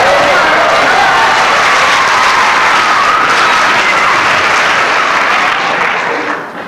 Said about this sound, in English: let me hear a little applause out there tonight